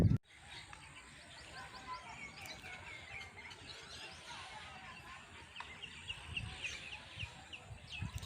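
Small birds, sparrows, chirp in a garden beside date palms near a village house: faint, scattered high chirps and tweets over a low outdoor rumble, with a brief loud bump at the start.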